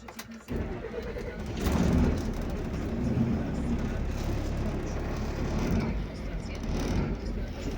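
Solbus SN11 city bus of PKS Rzeszów starting up: after a brief crank, the engine catches into a loud, steady low diesel rumble that fills the cab, and someone speaks over it.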